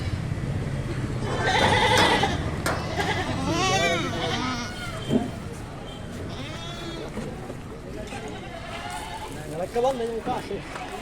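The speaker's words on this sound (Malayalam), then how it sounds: "ഈ ചുവന്ന പുള്ളി ഈ കളറിലുള്ള ആടുകളെല്ലാം രാജസ്ഥാൻ ഇനത്തിൽപ്പെട്ടതാണ്" Red-spotted Rajasthan breed goats at a crowded Kalampur goat market give several wavering bleats, a couple loud and near, mixed into steady conversation and general market chatter.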